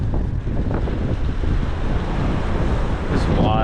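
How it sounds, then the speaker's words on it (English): Strong gusts from a cold front blast across an exposed microphone in an Ohio Valley windstorm, a loud, continuous roar of rumbling wind with no break and no clear voices. "That cold front is going to bring in those strongest wind gusts."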